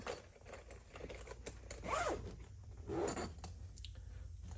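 A VETO SB LDT bag's zippers pulled back and forth a couple of times, close and scratchy, between small rustles and handling noises.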